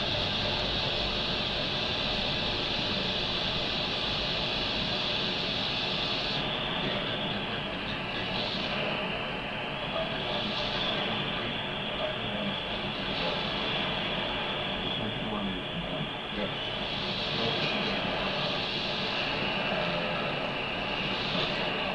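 Continuous hiss and crackling static from a 15-meter amateur radio band on an AM receiver, a dense steady noise wash with slight fluctuations, lasting throughout with no voices.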